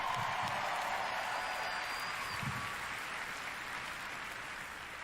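Audience applause fills a large hall at the Bethesda E3 2019 press conference, a steady roar of many hands clapping throughout, loud and continuous with slight fading toward the end.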